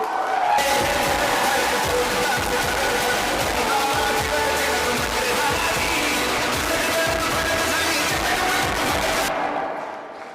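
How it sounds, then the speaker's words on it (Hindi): Loud, sustained applause and cheering from an audience for a speaker's mentors at a beauty parlour business event, dense clapping that starts abruptly and runs continuously for about nine seconds before cutting off. "एक बार तहे दिल से जोरदार तालियां"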